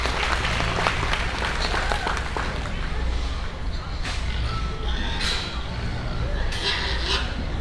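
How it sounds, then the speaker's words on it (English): Spectators at a junior purebred gilt show applaud the champion gilt exhibitor, a steady, busy clatter of clapping under a loud hall ambience, with a few sharper bursts late on and voices mixed in. "Let's give him a nice round of applause."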